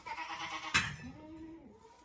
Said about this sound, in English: You love that goat, Grayson?